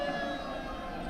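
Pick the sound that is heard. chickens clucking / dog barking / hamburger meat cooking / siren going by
siren going by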